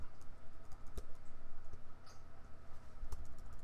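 Fingers type fast on a computer keyboard, a dense patter of soft clicking keystrokes over low background hum, close by, with nobody talking.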